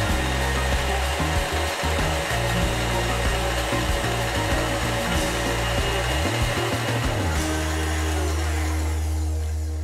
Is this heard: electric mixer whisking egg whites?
yes